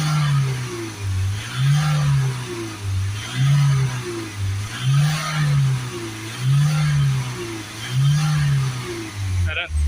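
A Ford Transit van engine revs repeatedly under acceleration. It rises and falls in a steady cycle of roughly five swells, loud and close, with a diesel-like rumble throughout.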